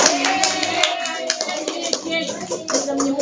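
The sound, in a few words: applause for a student in class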